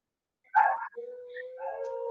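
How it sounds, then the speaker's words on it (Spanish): Dogs at home bark and howl: a sharp bark is followed by a sustained, wavering howl with other voices joining, heard fairly close. "mis perros, que tengo un montón de perros, se han revelado, no sé si se escuchan todos los aullidos"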